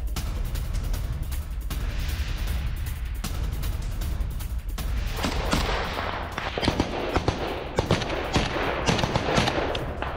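Anti-aircraft gunfire over Beirut rattles in dense, continuous bursts of sharp cracks, distant and echoing, growing heavier and more clustered toward the end.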